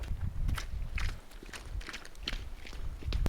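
Quick, light footsteps patter along at a hurried pace, several close steps in a row over a rough outdoor surface.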